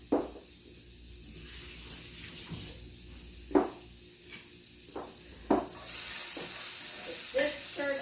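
Vegetables stirred in a hot pan, sizzling under a spoon or spatula: a few sharp scrapes over a steady fry hiss that swells louder near the end.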